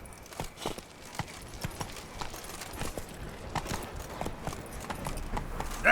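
Horse hooves in The Witcher 3 video game, a steady rhythmic clip-clop of galloping at moderate distance, even and continuous throughout with no talk over it.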